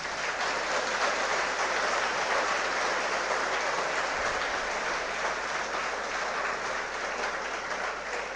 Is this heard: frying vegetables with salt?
no